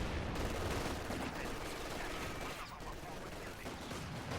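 Machine gun fire in the real-time strategy game Company of Heroes 2, a dense continuous battle din of rapid gunfire and explosions that holds steady at moderate loudness throughout.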